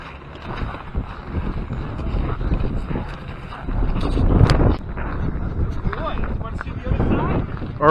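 Strong wind buffets the microphone at the cold, snowy summit of Whiteface Mountain, about 3,652 feet up, as a loud, continuous low roar that surges and eases in gusts.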